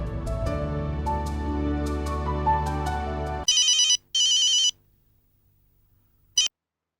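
A telephone rings in two electronic bursts, then a third short one, loud and close, following a stretch of music; no one speaks.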